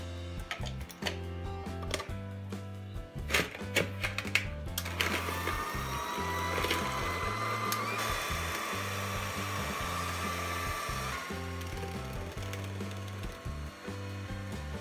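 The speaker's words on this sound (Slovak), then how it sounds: "Začneme tým, že si celé vajíčka vyšľaháme s cukrom" An electric mixer whisks whole eggs with sugar for a carrot cake with cheese cream, a steady loud motor whir running throughout with brief rattling ticks near the start.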